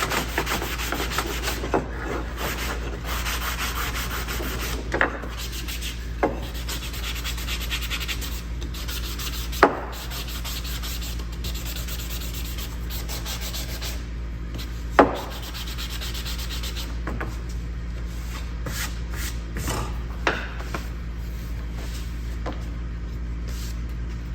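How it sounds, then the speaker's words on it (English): Hand sanding of a piece of wood with a sanding block for a kitchen and bathroom boho decor piece: steady, close scratchy rubbing strokes run throughout, with a few sharp knocks of the block scattered between them and no talking. "Okay, I'm gonna sand this, make sure it's nice."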